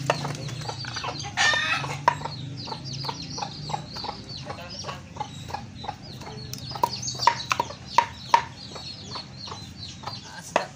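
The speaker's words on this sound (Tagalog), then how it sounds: "Yan po yung manok ko." Hens cluck in quick, repeated bursts near the microphone while a rooster crows once early on, over a soft farmyard background.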